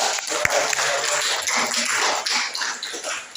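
Audience applause at an Indonesian government MoU socialization event in Konawe Utara Regency: dense, steady clapping from a crowd that holds at an even level for a few seconds.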